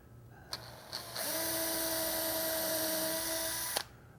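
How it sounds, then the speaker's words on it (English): A drill with a small brad point bit starts with a couple of short clicks, then whines steadily for a few seconds while pre-drilling a small pilot hole in cabinet door wood, and stops abruptly. "I'm going to go ahead and pre-drill these too. I'm just using a small brad point bit."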